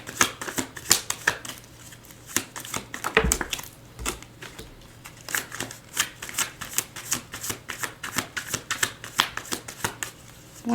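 Tarot cards are shuffled close up, a long run of quick, crisp riffling slaps and flicks in an uneven rhythm, with one heavier thud partway through.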